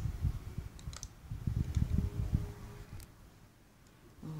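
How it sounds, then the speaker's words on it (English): Someone types on a laptop computer keyboard, producing faint clusters of quick clicks in short bursts over a low background rumble, then a quieter pause. "I'm typing from in my computer."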